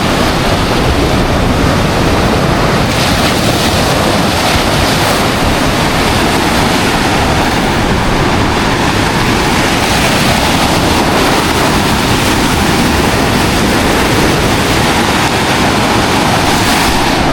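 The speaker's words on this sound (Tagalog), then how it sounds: "Sa sobrang lakas lang kasi ng alon" Big ocean waves pound the beach at Iba, Zambales, a loud, continuous roar of surf with heavy wind buffeting the microphone.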